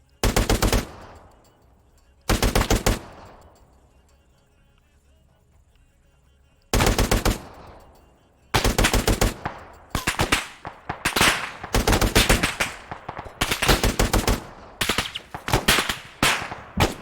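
Turret machine gun fire in a video game, loud and close, coming in long rapid bursts separated by pauses, then quickening into repeated short bursts toward the end.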